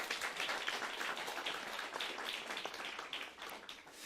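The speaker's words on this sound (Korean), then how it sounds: "이 젊은이들을 위해서 우리가 격려의 박수 한번 쳐드립시다." A Sunday church congregation applauds to encourage its young people, steady quiet clapping from many hands that spreads through the room and fades slightly toward the end.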